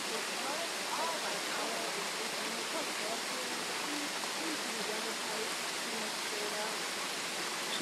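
Arethusa Falls roars as a steady, dense rush of falling water, loud and unbroken throughout with no pauses.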